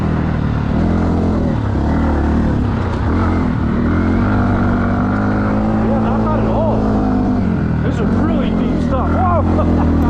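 A 2026 Yamaha WR125R motorcycle rides off-road through deep, thick ground in fourth gear, its engine droning loud and close throughout with shifting revs, while a rider talks over it.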